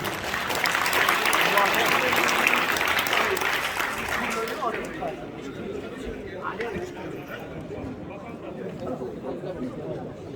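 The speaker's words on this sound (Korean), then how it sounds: "힘찬 박수 부탁드립니다." Loud, steady applause from an audience at a church ceremony installing a new association president fills the first half, then fades into a murmur of crowd chatter and low voices.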